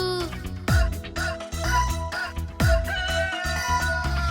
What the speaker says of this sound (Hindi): कुकड़ूकू, कुकड़ूकू, मुर्गा बोले कुकड़ूकू।